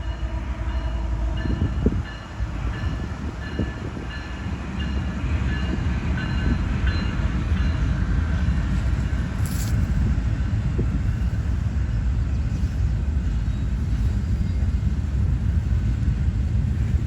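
The Amtrak California Zephyr passenger train rolls past at Galesburg with a loud, steady low rumble of wheels and cars and faint rail clatter, heard close and continuous throughout.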